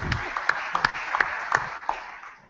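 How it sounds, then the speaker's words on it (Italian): A small audience at an evening talk applauds a man named Alberto, scattered claps popping over a soft steady wash of applause that fades toward the end. "facciamo un applauso ad Alberto, per favore"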